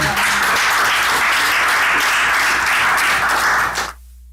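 Church congregation applauding the Lord, a dense, loud, steady wash of clapping that fills the room close by, then cuts off abruptly into near silence.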